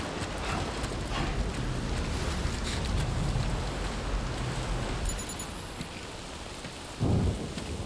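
Timefall rain in Death Stranding 2 pours steadily with deep rolling thunder rumbling through, the downpour dense and constant, ending with a sudden close thud.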